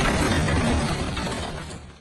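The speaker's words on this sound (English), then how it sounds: "A colossal yacht lost control and violently smashed into the dock" A colossal yacht smashes into a dock, a dense, loud crunching and crashing roar that holds for about two seconds before fading out, with no voices.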